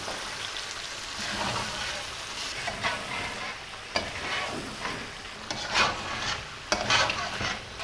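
Mutton frying in thick tomato gravy over medium flame with a continuous crackling sizzle and intermittent scraping, clattering stirs of a spoon against the pan, close up.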